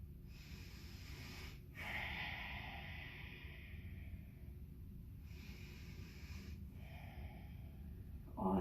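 Slow deep breathing during a yoga pose, a long airy inhale and exhale repeating in a calm rhythm, close and soft.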